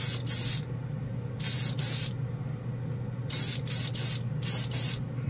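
Tamiya Mica Blue paint hisses from a spray can in short bursts, one or two at first and then a quicker run of four, each a crisp close hiss over a steady low hum.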